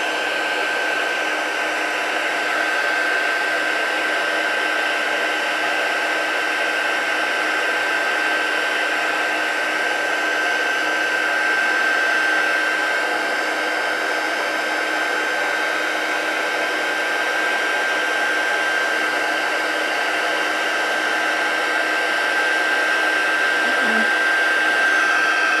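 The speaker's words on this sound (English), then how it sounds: "I'm going to heat emboss this until it gets all nice and shiny." A heat gun melts embossing powder on a handmade card, a constant close airy whir with a faint steady whine that runs unbroken throughout.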